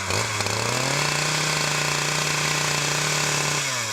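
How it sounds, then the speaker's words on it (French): A chainsaw cuts tree branch sections in a Congo Basin forest, its engine revving up and then holding a steady, loud, buzzing drone for several seconds before easing off. "nous allons tronçonner ces morceaux à l'aide de la tronçonneuse"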